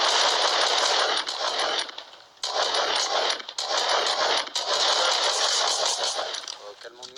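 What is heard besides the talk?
gunfire in a shooting video game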